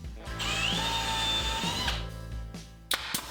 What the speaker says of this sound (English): I'll measure and mark to pre-drill and countersink holes.